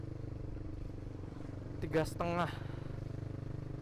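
Proliner aftermarket exhaust on a motorcycle, running with a steady low throbbing drone from start to finish while someone talks briefly over it partway through.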